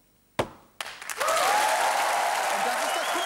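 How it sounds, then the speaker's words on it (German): A studio audience at a TV total on Tour show bursts into applause after a sharp clap or two, then keeps up a steady, full round of clapping. "Und das ist das Publikum, das applaudiert gerade."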